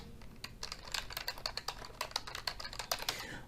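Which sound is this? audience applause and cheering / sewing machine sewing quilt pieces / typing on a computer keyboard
typing on a computer keyboard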